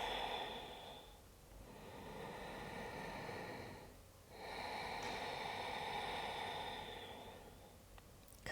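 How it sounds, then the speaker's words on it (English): Slow, deep breaths during a back-pain-relief yoga session, two long airy exhale-inhale cycles swelling and fading with pauses between, close and fairly quiet against faint room noise. "And breathe, nice, long, full breaths."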